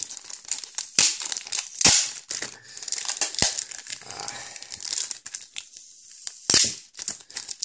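Tape rips and plastic wrapping crinkles as a Pokémon card tripack is opened, several sharp tearing bursts and crackles in quick irregular succession, heard up close.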